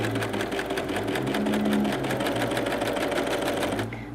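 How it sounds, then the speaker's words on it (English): A Pfaff Coverlock 3.0 overlocker stitches along flat-laid fabric in a steady, loud, rapid mechanical whir that runs without a break and then cuts off just before the end. "you just laid it flat and start overlocking."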